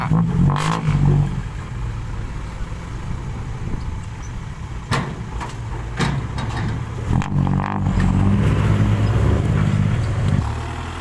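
A Kubota tractor engine at a muddy work site runs loud and close, holding a steady rumbling drone with a few revs, clanks and rattles of machinery.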